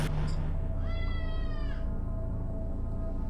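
A cat gives one clear, drawn-out meow close by, rising and then falling, over a steady low background hum.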